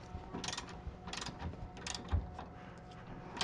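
A ratchet wrench snugging up the sway bar bushing bolts on an Aston Martin DB9, giving several short bursts of rapid clicking spaced about a second apart, fairly close and moderately quiet with no talk.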